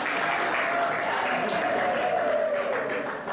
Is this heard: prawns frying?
no